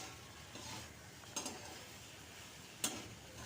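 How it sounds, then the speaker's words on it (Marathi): Puffed rice (murmura) is stirred and roasted in a pan, making a faint dry rustling sizzle with two short scraping strokes of a spatula, quiet and close. "नंतर त्यामध्ये आपले मुरमुरे टाकून घ्यायचे। 2 मिनिट अशा प्रकारे परतवून घ्यायचे।"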